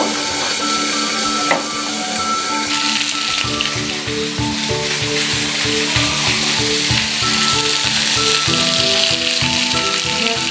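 Chicken pieces frying in hot oil for biryani, a loud continuous sizzle close up with a sharp tap near the start and a low rhythmic mechanical hum underneath.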